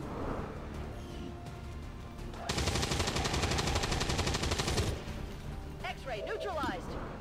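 Soldiers in XCOM 2 open up on a brute with a sustained burst of rapid automatic gunfire lasting a couple of seconds, framed by quieter game sounds and brief sharp effects before and after.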